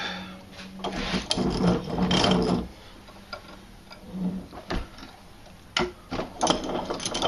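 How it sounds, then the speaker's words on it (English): An old steel file is clamped in a vise, giving a string of ratcheting clicks and metallic knocks and scrapes from the vise handle, close and fairly quiet, with no talking. "I'm using an old file and put it in my vise here and get kind of an appropriate length."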